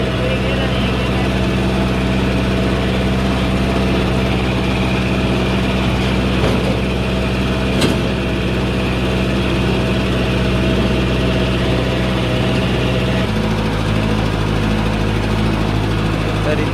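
A tractor engine chugs loudly and continuously while riding over a rough track to fetch soil, a heavy low drone with a slight drop in pitch near the end and occasional rattles.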